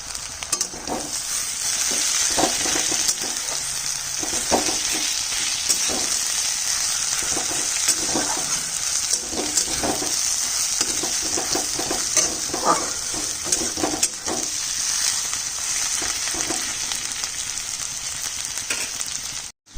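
Bay leaf and crushed garlic frying in hot oil, giving a steady, close, bright sizzle throughout with scattered soft stirring taps and crackles.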